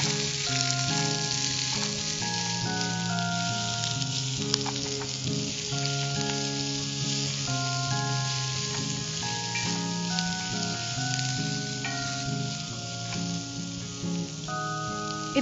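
Cashews sautéing in a pan for a brinjal masala, a steady close sizzle with faint stirring throughout, no voices, though music-like tones run underneath.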